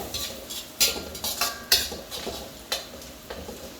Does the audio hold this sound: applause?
no